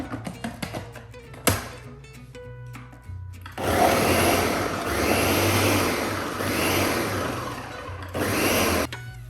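A kitchen blender grinds mushrooms, garlic, shallots and fresh thyme for beef Wellington. After some clattering, it settles into a loud, steady whir with rhythmic pulsing and a brief dip near the end.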